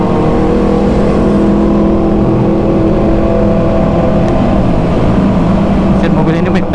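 Sport motorcycles including an MV Agusta, a Kawasaki ZX-6R and two Yamaha R6s ride together on a Sunday group ride, their engines humming steadily and loudly up close under continuous road and wind noise.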